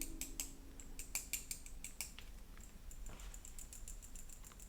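A titanium Autmog 38 clipless recessed-body pen rattles and clicks in the hand, a scattering of small close metallic ticks and taps over a faint low hum, quiet and irregular.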